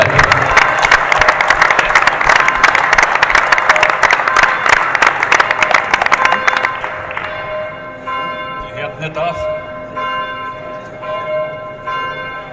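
Crowd applause at a 70th birthday celebration, blended with loud pealing church bells; the clapping fills the first half, then stops while the bells keep ringing on alone.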